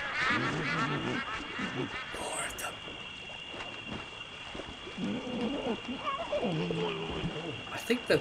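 A giraffe in the Amerzone video game gives hoarse, wheezy breaths and snorts against a steady background hum, with a few sharper high bursts along the way.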